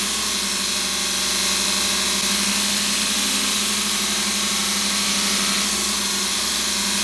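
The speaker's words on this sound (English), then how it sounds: "we're going to run just a sample grind. This old knife on a ceramic belt." A Grizzly 2x42 knife grinder runs a sample grind on an old knife against a ceramic belt, giving a steady, loud motor whine and belt hiss that continues without pause for the whole stretch, with no voices.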